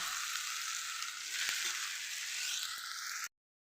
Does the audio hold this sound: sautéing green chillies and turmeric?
yes